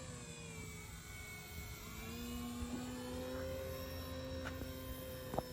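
FMS 1700 mm radio-controlled airplane in flight, a steady whining motor drone that shifts in pitch as it passes at a moderate distance, held throughout with a few faint clicks.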